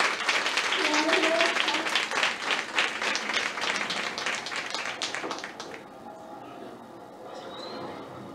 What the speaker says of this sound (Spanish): Fuerte los aplausos para